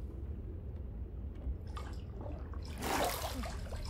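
Water in a Minecraft pool area: a low steady watery wash with soft drips and trickles, rising into a brighter splashing burst near the end.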